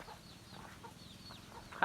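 Chickens cluck softly and intermittently over low rumbling background noise, with one louder squawk near the end.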